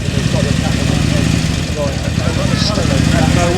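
An Italian motorcycle engine idles steadily and loudly up close throughout, a continuous low mechanical rumble at an outdoor classic bike gathering.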